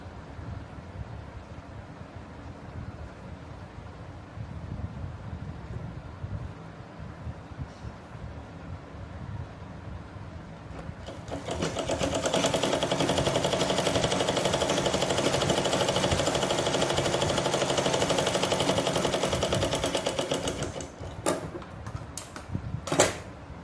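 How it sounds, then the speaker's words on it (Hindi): A sewing machine stitching blouse fabric runs in a steady whirring drone for about ten seconds, then stops, after quieter handling noises of cloth at the start and a few clicks at the end. "इसको ऊपर लगा देंगे और तिरछी सिलाई कर देंगे"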